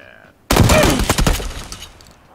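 A shotgun blasts in PlayerUnknown's Battlegrounds, one sudden loud crack followed by a harsh burst of clattering that dies away within about a second, after a brief lead-in of talk.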